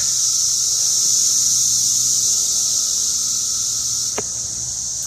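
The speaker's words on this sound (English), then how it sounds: "Just thousands of cicadas." Thousands of cicadas drone in a loud, continuous, unbroken hiss that echoes off a nearby wall along a trail, with a brief faint knock near the end.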